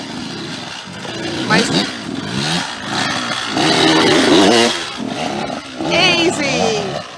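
A racing motorcycle engine revs hard and repeatedly, loud and close, its rising and falling roar swelling in bursts, with a voice briefly exclaiming over it.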